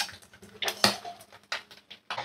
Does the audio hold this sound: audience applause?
no